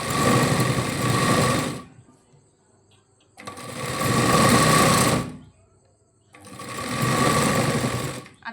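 A sewing machine stitches a sleeve joint in three loud bursts of rapid mechanical whirring, each about two seconds long, separated by quiet pauses with a faint hum.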